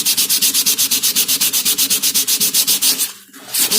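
Rapid, rhythmic back-and-forth rasp of 60 grit sandpaper on an old wooden bowl, loud and close, about eight strokes per second, with a brief pause before the scrubbing resumes.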